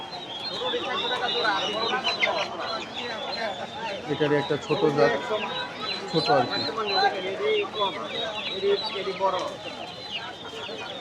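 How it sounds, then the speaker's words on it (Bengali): Many chickens cluck and squawk together at a crowded rural poultry market in Tongi, Bangladesh, a dense close chorus running throughout while people talk over it. "অসংখ্য মুরগি দেখতে পাচ্ছি, অসংখ্য মুরগি।"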